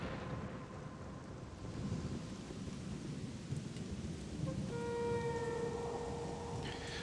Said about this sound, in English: Is like this rain way too loud?